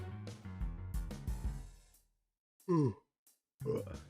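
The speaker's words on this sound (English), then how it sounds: "Maybe some of you just yawned just now." As music fades during a Phoenix Wright: Ace Attorney - Dual Destinies game stream, a person gives a drawn-out voiced yawn that falls in pitch, followed by a shorter breathy exhale.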